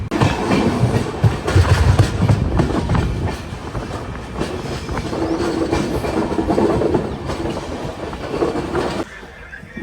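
A passenger train on the run from Ahmedabad toward Prayagraj, near the Madhya Pradesh border, rolls along the rails with loud continuous rumbling and rhythmic clickety-clack, heard close from aboard and easing slightly before the end.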